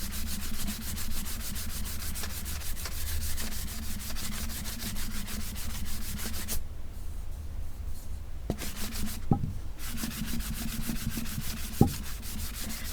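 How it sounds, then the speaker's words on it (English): Sandpaper rubs steadily over a tumbler cup in fast, rhythmic back-and-forth strokes, close and continuous with a brief pause partway through. "I know it doesn't look too pretty after it gets sanded"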